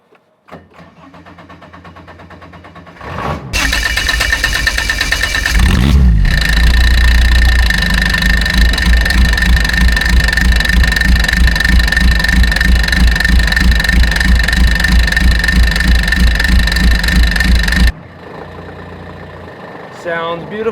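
A 2012 side-by-side with a 1700cc three-cylinder diesel cranks briefly after a glow-plug wait, catches loudly and settles into a steady, rough, close idle recorded at the exhaust, then cuts off abruptly.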